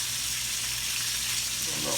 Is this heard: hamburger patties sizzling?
yes